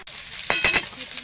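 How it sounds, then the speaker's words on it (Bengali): Turmeric- and salt-coated fish frying in oil in a kadai as the pieces are flipped, giving a quiet pause and then a few close, bright bursts of crackling sizzle. "মাছগুলো এভাবে উল্টে পাল্টে ভেজে নেব।"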